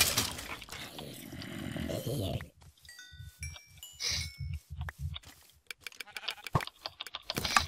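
Sheep bleat in a Minecraft Tekkit mod game, several short bleats in a row that come fairly close, mixed with clicking and game sounds after a stretch of talk.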